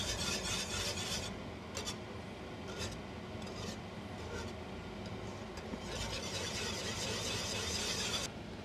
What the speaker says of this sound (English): And again we stir.